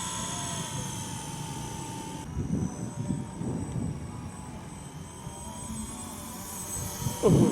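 An Esky 300 V2 Airwolf RC helicopter flies nearby with a steady high electric whine, holding a constant pitch and shifting slightly as it swoops and slides, with rotor buzz and occasional handling noise close by.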